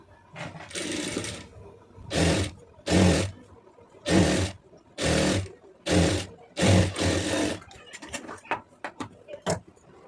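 A sewing machine stitches lace onto a net sleeve in about seven loud, close bursts of whirring, each a second or less, with short quiet gaps between, then lighter clicks and taps at the end.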